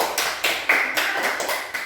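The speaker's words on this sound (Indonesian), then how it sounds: "tepuk tangan untuk kelompok 1" A class applauds a student group after their presentation, a quick run of bright, sharp claps and taps that starts and stops in bursts over a couple of seconds, close and fairly loud with no talking.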